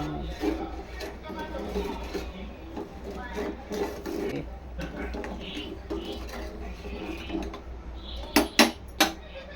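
A burnt milk pot being scrubbed clean in a kitchen, steady scraping and rubbing strokes throughout, a few sharp metallic clinks of the pot near the end, with a voice talking over it.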